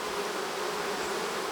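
Irritated honey bees buzz in a steady dense drone during a fall hive inspection, continuous and close with no pauses or voices.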